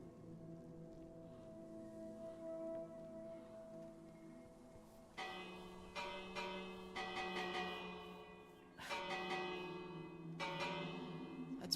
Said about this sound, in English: That's supposed to be your doorbell.